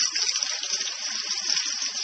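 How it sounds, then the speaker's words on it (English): Water from a kitchen tap gushes steadily as vegetables are rinsed under it, a close, continuous splashing hiss with no talk. "you just take some water, and you kind of unfold these things, and you just rinse the whole thing off"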